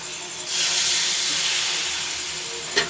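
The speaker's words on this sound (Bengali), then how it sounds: "এর মধ্যে কুলচা দিয়ে দেব দিয়ে হালকা একটু জলের ছিটা দেব" Water sprinkled over a kulcha in a hot pan sets off a loud, sustained steam hiss that swells, then slowly fades, ending with a brief sharp scrape.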